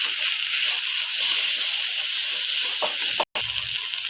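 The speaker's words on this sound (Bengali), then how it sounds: "তেলে কচু শাক রান্না করছি, মটর দিয়ে, চালটা দিয়ে" Taro leaves (kochu shak) cooking in oil with peas and rice, a steady broad sizzle and hiss continuing throughout, with a brief cut near the end and faint stirring clinks.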